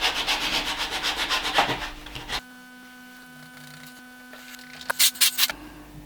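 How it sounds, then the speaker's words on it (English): Ordinary sandpaper scuffing the flesh side of leather for an axe sheath, a close, rapid back-and-forth rasping for about two seconds, then a quiet mains hum with a few brief scratchy strokes near the end. "I will rub that a bit so the contact cement adheres a little better. Just some ordinary sandpaper will do nicely for this."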